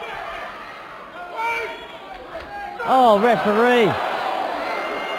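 A wrestling crowd reacts with loud shouted jeers and rising cries over a steady murmur, the noise swelling suddenly partway through and staying loud.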